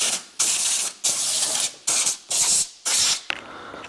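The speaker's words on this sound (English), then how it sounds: "Get some compressed air in there. Blow that out." Compressed air blasts into the brake area of a car during a brake and rotor job. There are six sharp, loud hissing bursts, each about half a second, separated by short pauses, close to the listener.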